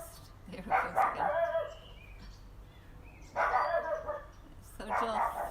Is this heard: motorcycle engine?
no